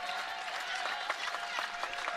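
A home crowd claps and cheers steadily at a 2022 college volleyball match between UIC and Illinois State, a dense, even wash of applause filling the arena.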